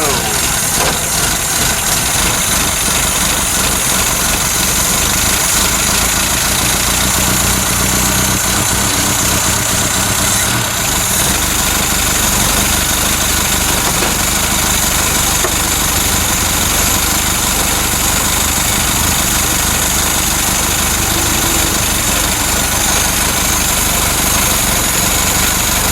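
A Ford Capri MKI engine idles loudly and steadily nearby while it warms up, a continuous rumble filling the whole stretch with a faint voice underneath.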